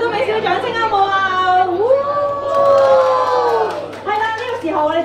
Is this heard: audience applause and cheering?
yes